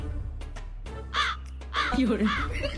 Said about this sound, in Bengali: কাক আমাদের মাথার উপরে